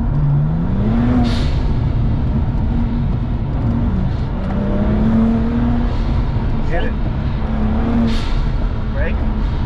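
A race car accelerates hard at an SCCA autocross. Its engine rises in pitch in repeated revving pulls, close and loud, with the driver and a passenger talking over it.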